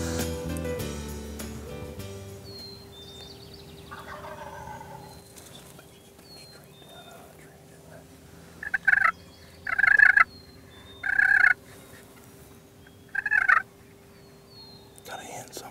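Several bursts of wild turkey gobbling in Kansas, distant then louder, in quick rattling calls spaced a second or two apart, with faint bird chirps in a quiet outdoor setting.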